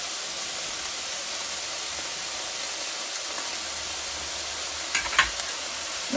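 Onions cooking in a pan, a constant broad sizzle and hiss with a few brief crackles and pops near the end, heard close and alone.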